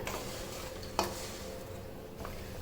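Jaggery melting in a pan for jujube pickle gives a soft, steady sizzle and bubbling, with a single sharp clink near the middle and a faint tap later, no talk.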